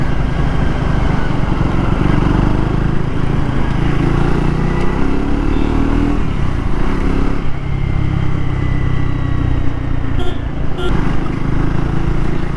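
A Triumph Tracker 400 motorcycle rides through city traffic, its engine droning loudly and steadily up close with shifting revs, a mix of road and wind rumble underneath, and no talking.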